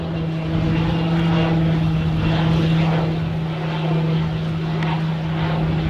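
An aircraft flies slowly past at the Farnborough Airshow, giving a loud, continuous propeller-engine drone with a steady tone that holds evenly throughout, without a break.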